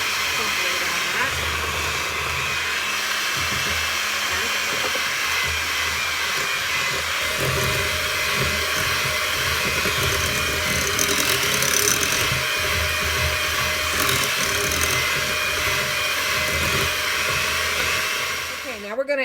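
An electric mixer beats pumpkin oatmeal cookie dough with a steady, loud whirring drone that runs without a break and fades right at the end.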